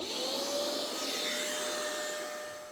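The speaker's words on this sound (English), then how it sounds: "This is going to be on our Hoover Cleanslate. Let's turn it on." A Hoover CleanSlate carpet spot cleaner with a 3.5 amp motor runs with a steady, whining motor hum, close and continuous without a break, fading slightly at the end.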